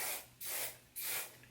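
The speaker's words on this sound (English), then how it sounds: "So now I'm going to go ahead and spray with hairspray." Close-up hairspray aerosol hisses in three short bursts, each a soft, airy spritz separated by brief pauses.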